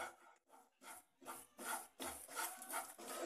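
Besan (gram flour) is stirred and roasted in a pan over medium gas, giving a soft, repeated scraping and rubbing of the spoon against the pan in steady strokes, close and fairly quiet.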